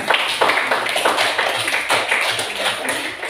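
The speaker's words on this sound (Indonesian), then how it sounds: "tepuk tangan untuk Angel" A classroom of students claps for a classmate during a lesson, loud, close, slightly uneven handclaps in a quick irregular rhythm lasting a few seconds with no talking.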